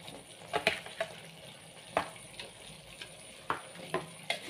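Eggplant stirred in a frying pan with seasoning, giving a steady soft sizzle broken by repeated scraping clacks of a utensil against the pan, close and fairly quiet, with no talking.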